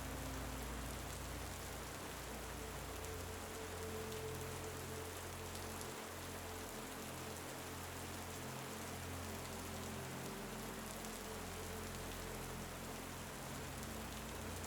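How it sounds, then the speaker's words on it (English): Steady rain falls continuously, a dense even hiss of drops on surfaces with a low rumble underneath, no voices. "Focus it on the sounds of the rain to return to meditation"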